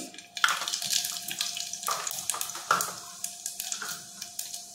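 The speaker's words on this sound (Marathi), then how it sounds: "हे बघा, आपलं आता तेल तापलेलं आहे। यात आपण 1 चमचा मोहरी" Mustard seeds sputter and crackle in hot oil while tempering masoor dal, a quick run of sharp pops over a steady hiss, close and alone with no talk.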